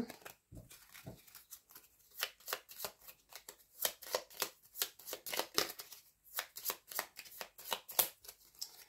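Tarot cards are shuffled in quick riffling bursts, close and crisp, with short pauses between the rapid rustling flurries.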